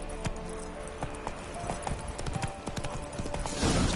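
The horse Roach trotting in The Witcher 3 video game, with rapid close hoof clip-clops in a quick regular rhythm over a busy ambient background that swells louder near the end.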